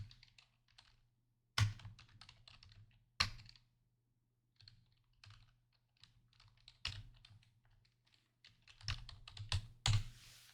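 Computer keyboard typing while a name is entered into an email subscription form, with scattered quiet key clicks and a few louder taps, close and alone without speech.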